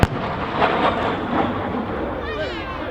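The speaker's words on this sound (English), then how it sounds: "Cannon fire unleashed onto the beach." Simulated cannon fire from a P-51 Mustang making a strafing run over a beach at a Scottish airshow sounds as a sharp bang followed by a roaring, rumbling wash of engine and blast noise that fades slowly.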